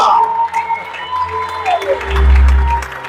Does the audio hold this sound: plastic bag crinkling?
no